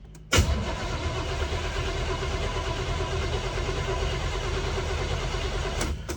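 A worn Chevy 350 V8 in a 1972 El Camino cranks briefly and catches, settling into a loud, rough, steady idle close by, with no talk.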